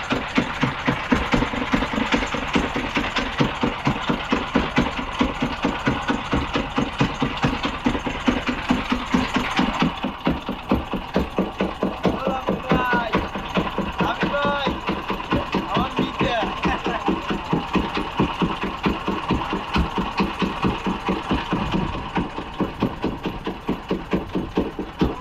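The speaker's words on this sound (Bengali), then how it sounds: "আমি একটু ট্রলার চালাইতেছি।" A fishing trawler's engine runs steadily in the Sundarbans with a rapid, knocking diesel chug that stays loud and close throughout, with voices occasionally audible over the engine.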